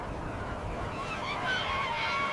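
Emperor penguins calling, with nasal, honking trumpet-like cries rising over a dense, rumbling colony background, fairly close and continuous.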